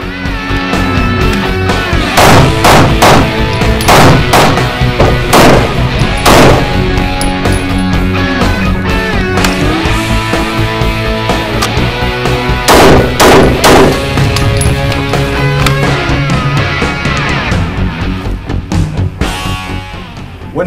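Glock 26 pistol shots at a shooting range, a loud rapid string of sharp reports repeating in quick volleys, close and dominant throughout.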